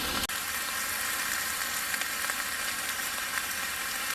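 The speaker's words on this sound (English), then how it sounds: "Sizzle, sizzle." Steady, close crackling sizzle of food frying in a hot pan, continuous and even throughout.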